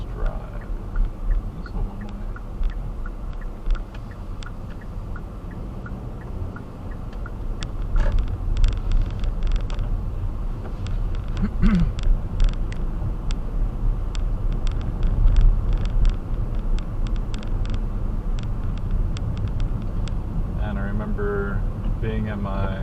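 A car driving along a one-way suburban road in Butler County, Ohio, heard from inside as a steady low road rumble and engine hum, with clicking ticks and a brief rise midway.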